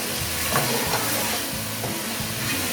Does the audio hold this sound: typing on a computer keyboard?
no